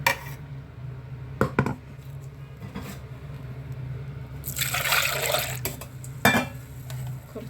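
Ground coconut paste mixed with water is poured into a pot of Kerala-style crab curry, heard as a few metal clinks and then a thick, bubbly pouring splash in the middle of the clip, with more utensil knocks afterward.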